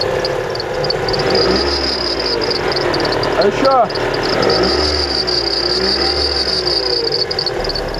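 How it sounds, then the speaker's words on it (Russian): A Mitsubishi Outlander engine runs steadily with a high, thin whistling squeal from the drive belt tensioner above it, and a voice speaks briefly partway through. "ремень приводной в машине Mitsubishi Outlander начал свистеть"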